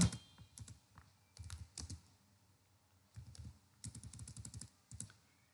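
Rapid clattering keystrokes on a computer keyboard come in bursts separated by short pauses, close and fairly quiet, with no voices.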